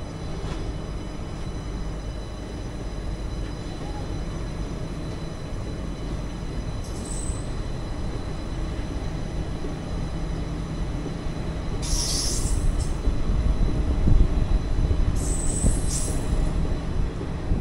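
A 16128 Guruvayur–Chennai Express train pulling out of Sattur station, heard from inside an AC 3-tier coach: a steady low rumble of wheels and carriage that grows slightly louder, with brief high metallic squeals near the end.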